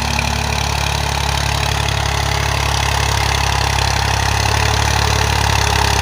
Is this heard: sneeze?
no